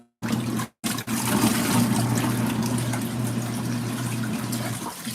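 Water swishes and trickles steadily inside an LG ThinQ MEGA Ultimate front-load washer during its rinse cycle, a continuous close wash sound with a low motor hum after a brief break near the start.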